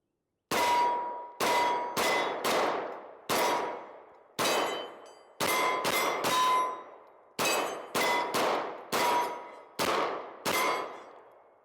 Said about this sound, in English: Toss them magazines on the ground so somebody can say something about it.